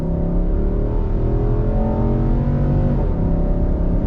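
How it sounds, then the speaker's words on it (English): A 2021 Nissan Armada SV pulls ahead from a slow roll under throttle, its engine giving a steady, loud low drone with rising harmonic tones and a slight shift near the end, no talking. "let's do a little bit of on throttle from a slow roll"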